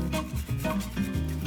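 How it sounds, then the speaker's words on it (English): Whole nutmeg rasped on a grater for an 1896 apple pie, a short run of rhythmic scraping strokes close up, with no talk. "You can stop grating."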